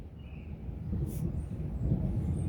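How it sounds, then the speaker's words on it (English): Thunder rolls as a low, continuous rumble that swells slightly during an outdoor rainstorm, with no voices. "We actually just heard a thunderstorm."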